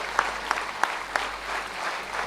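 An audience at a humour club anniversary celebration claps to welcome a guest onto the stage, a steady wash of clapping with a few sharper individual claps standing out.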